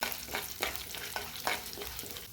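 Urad dal and chana dal fry in hot oil for a tempering after mustard seeds, with a faint, steady sizzle broken by several rhythmic scraping stirs of the spoon.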